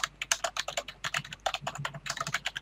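Rapid keyboard typing, a dense run of close, crisp keystrokes in irregular bursts, with no voice over it, during a Minecraft BetaCraft gaming session.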